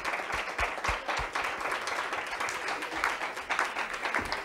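Studio audience applauding a guest on an Italian talk show, a moderate round of clapping with several sharp individual claps standing out early on, steady and fairly close.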